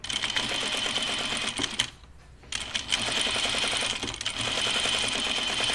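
A sewing machine stitches a dress facing seam in fast, steady mechanical chatter, pausing briefly for about half a second before running again at the same even pace.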